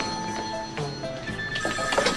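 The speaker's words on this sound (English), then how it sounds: "Well, there's the phone." A telephone rings in a room, its bell trilling steadily and fairly loud for a couple of seconds with no voices over it.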